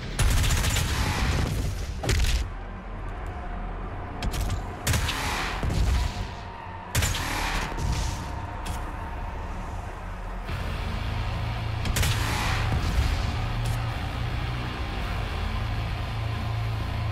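Rapid gunfire and explosive blasts from homing missiles in the video game Doom Eternal, loud bursts of shots and booms in clusters separated by short gaps over a low rumbling backdrop.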